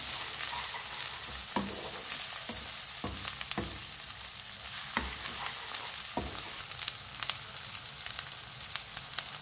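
Two large chopped green chilies fry in hot oil, a steady crackling sizzle broken by sharp pops and spatters, with occasional scrapes of a spoon stirring the pan, close and even in level.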